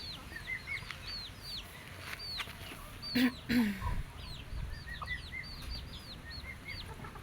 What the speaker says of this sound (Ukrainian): Це курочка блакитні яйця несе.